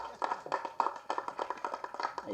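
A live audience at a Tamil film event for Thookidurai breaks into clapping. The hand claps are moderate and somewhat uneven, lasting the whole short stretch, and there is no speech over them.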